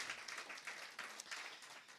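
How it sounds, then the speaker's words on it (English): A steady wash of applause from an audience at a bank launch event for a women's banking programme, sustained and fairly distant, with no voices standing out. "One more round of applause for Rebecca Mbithi, Family Bank CEO."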